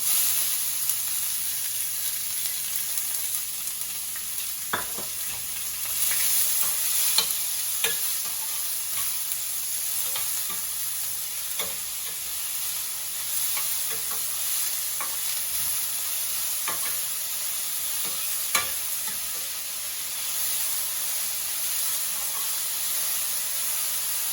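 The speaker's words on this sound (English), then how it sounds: "Just saute it for 1 or 2 minutes." Onions and red chilies sauté in a pan with dal, giving a steady frying sizzle and hiss throughout, with occasional scraping stirs and light clinks of a spatula.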